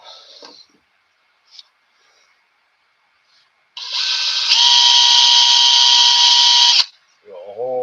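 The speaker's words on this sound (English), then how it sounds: "Drill a hole. That's just the 16th inch drill bit." A small drill with a 1/16-inch bit whirs steadily for about three seconds while drilling a hole, loud and close, after brief scattered noises and before a voice briefly speaks.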